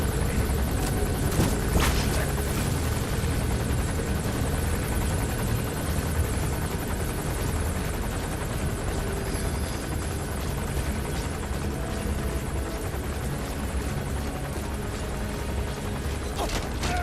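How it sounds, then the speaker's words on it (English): A helicopter in the video game Metal Gear Solid V: The Phantom Pain gives a loud, steady rotor drone that holds for the whole stretch with no pause. "Once the chopper leaves."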